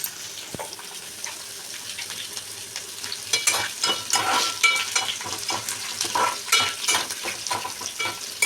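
Spices for a tamarind fish curry crackle and sizzle in hot oil in a pan, with scattered sharp pops and spits growing busier and louder after the first few seconds, close and without talk.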